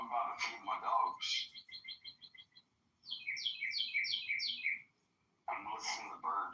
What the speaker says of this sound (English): I'm listening to the birds chirp in the background.